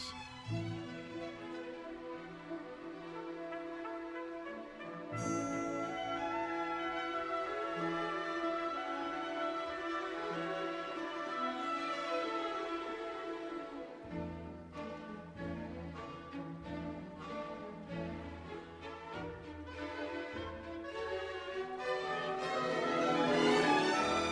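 A full orchestra plays a flowing passage from the first movement of Mahler's Symphony, with strings and winds swelling together, fairly soft and continuous throughout.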